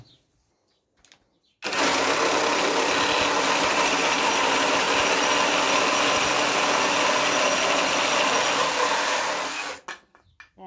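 A Parkside Performance PSSPA 20-Li A1 cordless jigsaw cuts wood steadily for about eight seconds, a loud, buzzing, rattling drone that starts abruptly and cuts off near the end.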